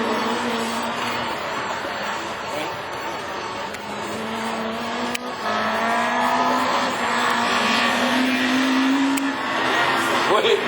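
Rallycross cars, a Honda and a Peugeot 207, racing at a French championship round at Châteauroux: a steady, loud engine roar with rising pitch as the cars accelerate, continuous throughout under a commentator's voice.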